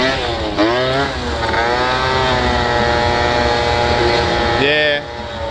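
A 50cc scooter engine revving hard and steadily through a wheelie, with rising and falling pitch, loud and close, as people talk over it.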